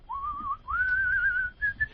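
Mournful whistled melody from a film's sad scene of a man cradling his dead wolf, a single clear whistle gliding in long phrases with brief pauses over a soft low background.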